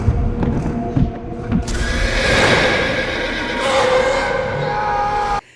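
A horse from the film Battlefield Earth rears and lets out a loud, drawn-out whinny lasting several seconds over rumbling movie sound, then cuts off abruptly.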